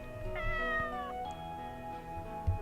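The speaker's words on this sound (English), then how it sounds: "With its head tilted slightly to the side, it let out an adorable meow." A cat in the horror game Corpse Party: Book of Shadows gives a single soft, drawn-out meow that slides downward, fairly quiet, with faint background hum and no speech.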